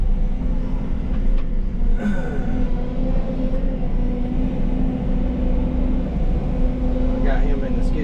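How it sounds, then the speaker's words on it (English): A skid steer's engine rumbles steadily at close range and moderate loudness, a low continuous drone with a couple of brief clanks, while someone talks over it. "I got him in the skid steer."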